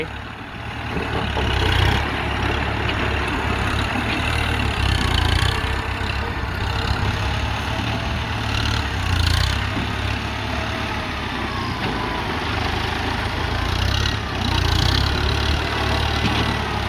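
A Kubota M108S tractor pushing wet mud to build a water-blocking embankment, its diesel engine a loud, steady close rumble running throughout with slight swells and no talk.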